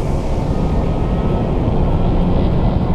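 A Porsche Taycan Turbo launching hard under launch control gives a steady, loud, dense roar with heavy wind and road rush throughout and no break, close and unvarying.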